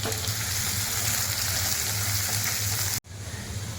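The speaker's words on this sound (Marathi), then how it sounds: "कढीपत्ता बारीक केलेला कांदा त्याला व्यवस्थित आपण फ्राय करून घेऊया" Onion and curry leaves fry steadily in plenty of hot oil, a dense, even sizzle close up that runs without a break and cuts off sharply near the end before resuming.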